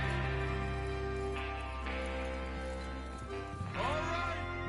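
Horses moving in the Western video game Red Dead Redemption, their hoof clip-clop running steadily under dense game music and voices talking.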